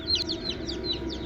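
Young chicks peep in a quick series of thin, high chirps, close by and fairly clear over a low background hum.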